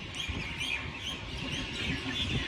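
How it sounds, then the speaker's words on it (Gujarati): Evening birdsong with mynas and other birds calling and chirping continuously outdoors, a dense, lively chorus at moderate volume with no talking. "પક્ષીનો અવાજ પણ આપણે કેવો મસ્ત આવે"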